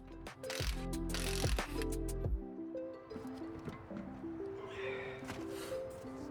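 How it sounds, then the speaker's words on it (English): Ratchet working on 19mm wheel lug nuts of a 1990 Cadillac DeVille: close, rapid mechanical clicking and whirring in short bursts, followed by quieter clicks and handling noises. "Remove the 19mm wheel lug nuts."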